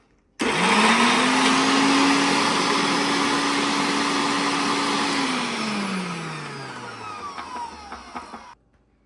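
An electric mixer grinder grinding spices starts abruptly, whirs loudly and steadily for several seconds, then its motor pitch drops as it winds down and stops.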